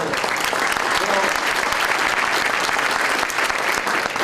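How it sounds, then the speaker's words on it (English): Steady, loud applause from a crowd at a mayor's State of the City address, dense and sustained throughout with no break. "Let's give him a round of applause"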